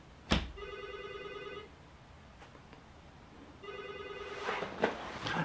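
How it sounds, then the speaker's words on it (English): A telephone rings in two separate bursts with a pause between them. Each burst is a moderately loud electronic trill set against a quiet room, with faint background noise and a couple of small knocks near the end. "There's a phone, it's ringing."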